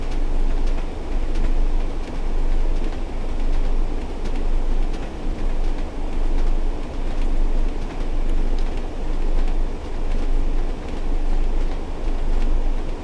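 A BR Class 101 blue and grey diesel multiple unit in Train Sim World heading toward Leeds on a Northern Trans-Pennine route, giving a steady, loud low rumble and rolling drone with a rhythmic pulsing throb throughout.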